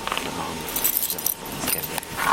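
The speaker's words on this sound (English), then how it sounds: "Here's the keys to the car." Car keys jangle and clink in a steady metallic rattle, close by and fairly loud, with brief brighter bursts near the end during a roadside police stop.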